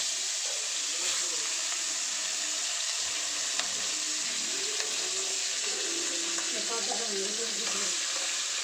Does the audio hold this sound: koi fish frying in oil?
yes